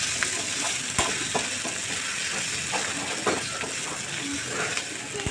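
Chopped tomato and onion sauté in a hot pan for a sprouted masoor dal usal, a steady close sizzle broken by occasional sharp clicks of a spoon stirring against the pan.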